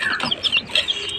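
Clucking from a mother hen and her eight chicks in a poultry pen, soft overlapping calls and peeps close by with no talk.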